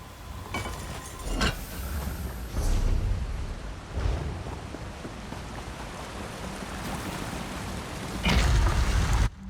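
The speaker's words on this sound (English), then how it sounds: "Is that a door behind the waterfall?" A steady rushing waterfall in Elder Scrolls Online fills the background as a broad, moderate wash of falling water, with a few low rumbling swells rising over it.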